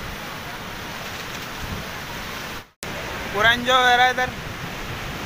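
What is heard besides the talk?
large ocean waves crashing on Goa beach during rain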